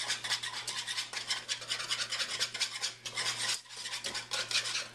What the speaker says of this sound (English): It says whisk it in until it's all dissolved.